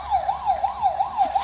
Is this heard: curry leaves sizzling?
no